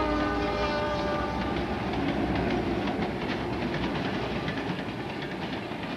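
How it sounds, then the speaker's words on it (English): A Conrail freight train rolls past loud and near on an old DL&W line, a steady roar of wheels with rhythmic clatter and a sounding horn throughout. "One Conrail freight a day now passes through on the old DL&W right-of-way"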